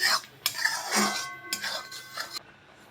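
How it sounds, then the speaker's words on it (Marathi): A spoon clinks and scrapes against a pan while raw mango mixture with sugar is stirred for aam papad, in short, uneven bursts of metallic contact close by. "हे असं सगळं मिक्स करून 2 मिनिट शिजवून घ्यायचं आहे आपल्याला साखर घालून"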